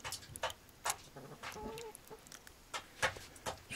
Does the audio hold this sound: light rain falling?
no